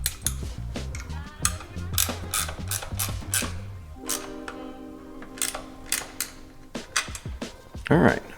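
A hand ratchet clicks in quick runs while tightening a lock nut on an MV Agusta F3 motorcycle bracket, close and crisp, pausing midway to a faint hum before more clicks and knocks.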